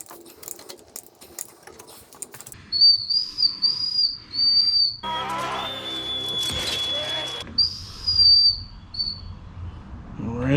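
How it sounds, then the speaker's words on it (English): Thin high-pitched whistles of air squeezed out of an engine cylinder on compression as the crank is rotated, in short bursts and one sustained tone, amid mechanical clicks and shuffling. "as you rotate the crank around on compression, it'll push air out and this will whistle"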